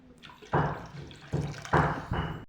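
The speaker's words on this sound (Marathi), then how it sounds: "आता पाणी टाकलं मी" Water poured into a pot of dahi kadhi on the stove, heard as several short splashing gushes in quick succession, close and moderately loud, with no speech.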